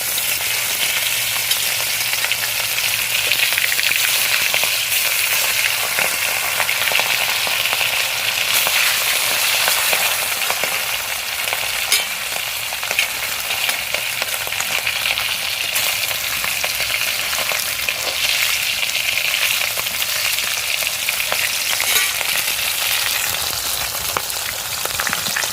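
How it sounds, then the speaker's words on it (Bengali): Fish with turmeric and salt fries in hot oil, making a loud, continuous close-up sizzle that stays unbroken throughout with no voices. "তেলটা গরম হয়ে গেছে, এবারে তেলের মধ্যে এই যে দিয়ে দেবো মাছগুলো"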